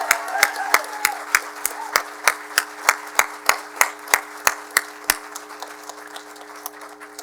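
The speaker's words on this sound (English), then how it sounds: "Let's give you one more round of applause." Evenly spaced claps ring out one after another at a Class of 2020 commencement celebration over a steady electrical hum, then fade away after about five seconds.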